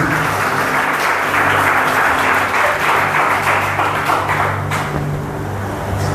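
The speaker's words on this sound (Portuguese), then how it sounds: "A melhor salva de palmas para você" A church congregation at a family worship service claps in a loud, sustained round of applause, dense and even throughout, with a low steady hum from instruments or amplification beneath it.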